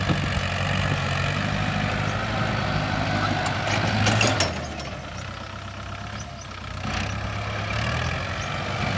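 A tractor engine labours as the machine pushes soil, a loud, steady low rumble that swells and dips slightly as the load changes.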